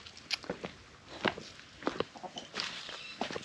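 Chickens in a large coop area on a homestead cluck and scratch about, giving scattered soft bursts that are faint and fairly close, with no talking.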